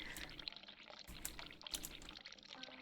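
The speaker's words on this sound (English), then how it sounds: "I can hear the water running." Running water in the video game The Cat Lady, a steady pouring rush that flows on without a break and swells and fades a little, with no voices.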